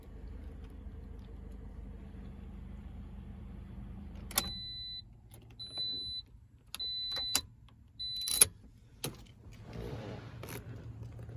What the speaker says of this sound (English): And let's go and shut down the Corolla.